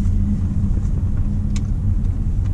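Audi A8L with a 3.0L V6 quattro diesel on the move, a steady low engine and road rumble heard inside the cabin, continuous and even throughout.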